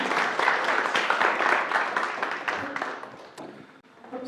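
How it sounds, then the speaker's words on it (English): Audience applause for a team at a Solve the SDGs closing ceremony, many hands clapping loudly for several seconds before tapering off near the end, with faint voices underneath. "Again, applause for your Team Core."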